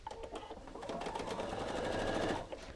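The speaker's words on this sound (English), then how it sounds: "And run this through the machine." A sewing machine stitches strips of pink and white fabric together, a rapid, even mechanical chatter heard up close, running steadily and stopping after a few seconds.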